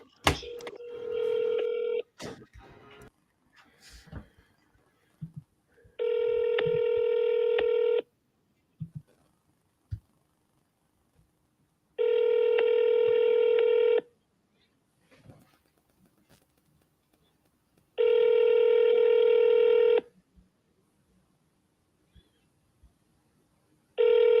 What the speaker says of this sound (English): the agent's number. Let's give her a call.